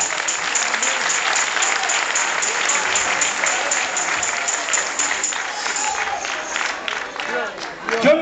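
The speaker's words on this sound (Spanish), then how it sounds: "Den un aplauso al Señor." Loud, dense applause from a church congregation during a Spanish-language service, sustained enthusiastic clapping with some crowd cheering and vocal noise mixed in, tapering slightly near the end.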